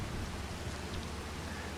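Rain falls steadily in the Farming Simulator 25 video game, a dense, even hiss with a low rumble underneath that holds constant throughout.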